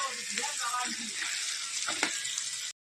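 Spice paste sizzles steadily in a hot pan, with a brief scrape of stirring near the end before the sound cuts off abruptly.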